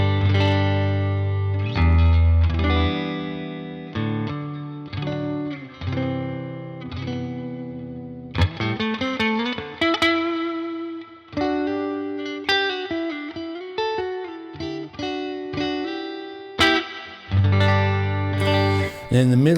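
A Baum Wingman electric guitar played through effects, with a hollow, chorused, echoing tone. Sustained chords and single-note lines ring out loud and alone, with no talking.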